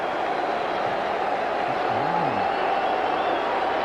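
A large crowd of more than 57,000 at Yankee Stadium during a 1995 MLB playoff game applauds in a steady, broad roar that fills the whole stretch, with a voice faintly audible beneath.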